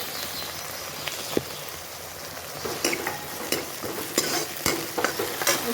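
Chopped tomatoes stirred into golden-brown onions frying in a pan for a Punjabi ridge gourd (tori) sabzi, with a steady sizzle and repeated scraping stirs of a spoon, close and loud, without talk.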